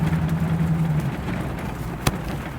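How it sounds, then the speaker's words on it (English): A blue 1965 Ford Mustang classic car engine runs with a steady low rumble and an even droning hum throughout, with one short sharp click near the end. "I'll give you a chance to see how this Mustang operates, runs and drives."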